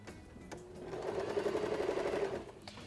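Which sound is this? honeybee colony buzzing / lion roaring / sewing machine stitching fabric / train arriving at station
sewing machine stitching fabric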